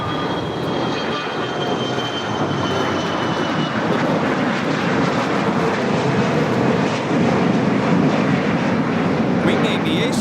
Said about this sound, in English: Wing Aviation, Flight 66, taking off to Washington Dulles on the Gulfstream G400